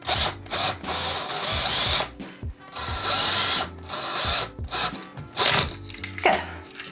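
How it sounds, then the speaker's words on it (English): A power drill driving a screw while installing a toilet seat whirs in several short bursts, starting and stopping repeatedly with brief pauses between, close by and fairly loud. "And then take your drill, hold it nice and tight in the center."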